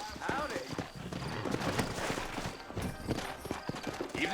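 Horse hooves clip-clop in Red Dead Redemption on Xbox 360, steady trotting footfalls near and clear with a horse whinny, under ambient game sound and some speech.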